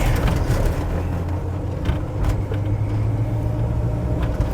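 A 1991 VW T25 Autosleeper Trident camper van drives along, its engine a steady low rumble with road noise heard from inside the cabin, with no talk.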